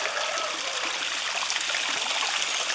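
Water from a small garden waterfall trickles steadily into a pond, a continuous close splashing flow with no voices.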